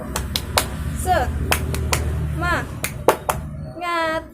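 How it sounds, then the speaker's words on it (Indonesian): A teacher leads a rhythmic 'tepuk semangat' clap pattern for young pupils, with sharp claps coming in a patterned sequence, mixed with spoken chanting and a sung phrase. "Tepuk semangat."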